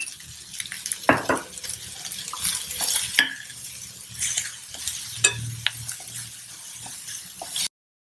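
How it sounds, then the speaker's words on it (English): Chopped onions fry with salt in a pan, a steady sizzle broken by close clinks and scrapes of a utensil stirring them, with a few sharper knocks against the pan. "Add some salt while the onions are frying."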